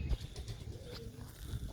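Young pigeons in a loft make soft, low cooing murmurs, mixed with faint rustling and shuffling close by, in a steady busy hum with no talking.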